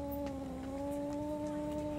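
A cat in the video game DreadOut 2 gives a sustained, steady caterwaul-like yowl, prominent and continuous against a low game background.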